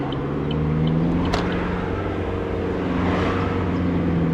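A cheap used car, lately impounded and still running poorly, drives along the road with a steady engine drone and low rumble, harmonic tones holding level and a brief knock near the middle, no talk.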